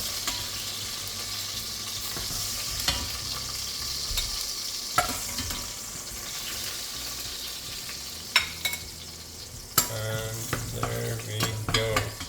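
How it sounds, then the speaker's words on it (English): Bacon frying in a pan for bolognese, a continuous loud sizzle with spoon clinks and scrapes as it is stirred, the clatter growing busier toward the end. "I just added the bacon, so I'm gonna let that fry."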